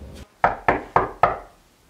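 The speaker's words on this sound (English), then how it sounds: "All of a sudden, there was a knock upon Santa's door" Four firm, evenly spaced knocks on a door follow a short lead-in sound, each hit sharp and close with a brief wooden ring, then quiet.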